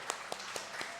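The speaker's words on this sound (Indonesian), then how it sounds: "Tepuk tangan yang luar biasa." A church congregation claps during a worship service, producing a few sparse, separate claps spread across about a second, faint and scattered rather than a full burst of applause.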